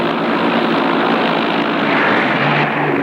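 American military planes over South Vietnam during the Vietnam War, a loud, steady propeller aircraft engine roar that fills the whole stretch with a continuous broadband drone, sounding close and unbroken, with no voices.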